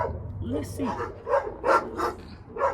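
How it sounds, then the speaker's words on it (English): Several dogs bark back and forth at each other outdoors, giving a handful of short, moderately close woofs while a person talks over them. "Oh, they barking at each other."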